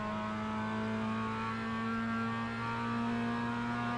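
Mazda MX-5 race car engine in iRacing at VIR, a steady, loud harmonic drone holding high revs on throttle, continuous and close with no talk.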